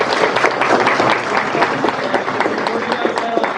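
Audience applause right after a student team's final prototype presentation in a session hall, dense continuous clapping from a crowd at steady loudness with some cheering mixed in.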